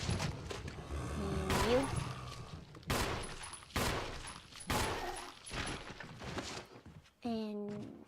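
Gunfire in the video game Resident Evil HD Remaster rings out in several sharp, loud shots spaced about a second apart, with someone speaking briefly between them and a short pitched vocal sound near the end.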